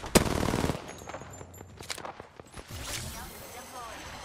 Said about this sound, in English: Oh, she's getting shot.